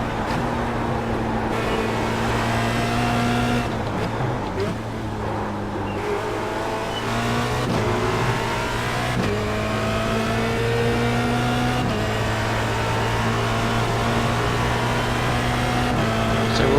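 An FR2.0 race car engine in a racing simulator holds a loud, constant high-revving drone with brief dips and shifts in pitch as it laps, steady and close throughout.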